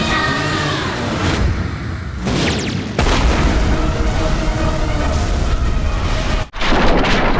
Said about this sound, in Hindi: जब इनका मिशन पूरा नहीं हो पाता तो ये बॉम्ब की तरह इस गाड़ी का करवा देती है विस्फोट।